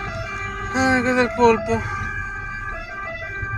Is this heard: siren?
yes